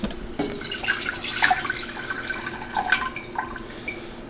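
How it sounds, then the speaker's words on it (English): Water poured from a bowl into a cooking pot for ramen, a brief splashing, gurgling pour near the microphone with faint drips, no talking. "Pour bowl into pot."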